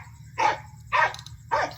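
A dog gives three separate barks, roughly half a second apart, at moderate distance over a steady low background hum.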